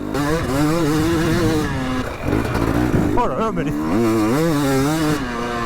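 A Husqvarna fuel-injected two-stroke motorcycle engine revs and crackles loudly nearby, pitch rising and falling, while a person exclaims over it.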